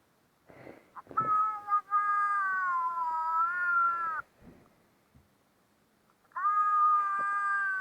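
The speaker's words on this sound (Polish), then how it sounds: "Ale kot." A cat meows loudly and close by: a long, drawn-out wavering meow, a short gap with faint noises, then another sustained meow.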